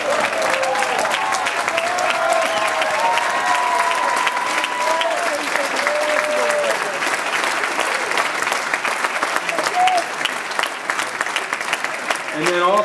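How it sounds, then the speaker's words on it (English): Standing ovation for UCLA football coach Jim Mora at a signing day event: dense, sustained applause fills the room throughout, with cheering voices and a few shouts rising above the clapping. "I don't think that just sitting and clapping for him is enough. I think we need to give him a standing O"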